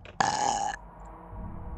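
A single short, loud burp erupts and cuts off abruptly, followed by quiet room tone.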